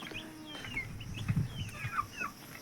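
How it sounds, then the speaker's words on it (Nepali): Chicks in a village house yard, their thin high peeping and cheeping rising faintly over low rustling background noise, with no talk. "कुखुराको बच्चा नि रहेछन्।"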